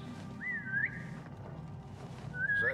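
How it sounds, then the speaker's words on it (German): Whistling from Assassin's Creed Mirage: two rising, wavering whistled phrases, one early and one at the end, over a steady low game ambience, with no talk. "Hier wird doch nur gepfiffen."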